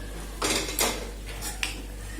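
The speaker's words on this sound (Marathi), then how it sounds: "आता आपण परतून घेऊ." Fenugreek greens are turned in a pan with a few quick metallic scrapes and clinks of a spoon, spaced apart over a low steady hum.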